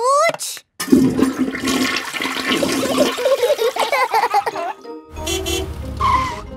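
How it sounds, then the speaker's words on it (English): Cartoon toilet flushing in a bathroom, a loud rushing, gurgling swirl of water with a sliding, squealing tone, followed by a brief pause and a short musical sting. "Flush the toilet, George."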